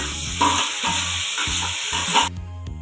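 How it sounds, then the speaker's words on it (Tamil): Chopped tomatoes going into ginger garlic paste frying in a pan for a home-style South Indian meal, a loud close sizzle with repeated stirring clatter and scraping before the hiss abruptly drops away near the end. "இஞ்சி பூண்டு பேஸ்ட் போட்டு நல்லாவே வதங்கிடுது இப்போ கட் பண்ண தக்காளி சேர்த்துக்கலாம்"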